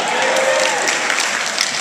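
Theater audience at the Castro Theater applauding steadily during a movie-night Q&A, a dense wash of clapping that fills the short moment, with a voice briefly audible beneath it.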